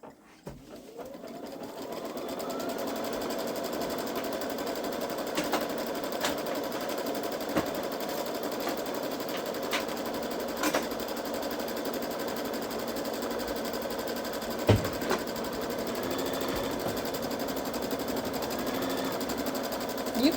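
A Babylock Solaris embroidery machine stitches a placement line in white thread, a steady, even mechanical hum and rapid needle patter that starts up and runs without pause, close by, with occasional small clicks.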